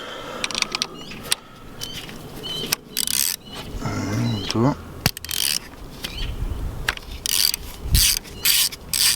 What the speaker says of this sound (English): So we get a 10 mil socket.